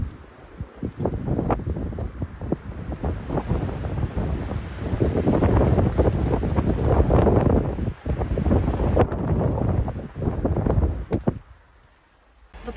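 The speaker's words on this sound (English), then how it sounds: "And it's so windy." Strong gusty wind blowing outdoors around a van, loud rushing buffets against the microphone with brief lulls, rattling and knocking bits mixed in, fading near the end.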